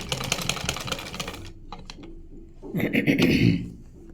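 A sewing machine stitches a Punjabi collar in quick rattling runs. A dense burst is followed by a quieter stretch of separate clicks, then another loud run, all heard close up.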